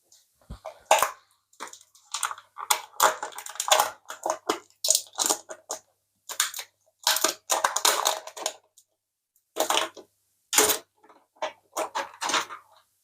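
A Samsung Galaxy Z Fold 4 in grey-green is pulled from its box with a run of close, crisp rustles, scrapes and taps of cardboard and packaging. The bursts come in uneven clusters separated by short silences.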